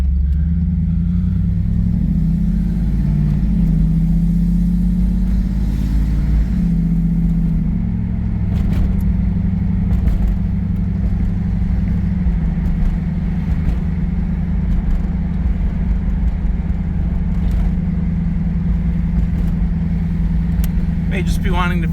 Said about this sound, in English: Let's see how she goes through the gears.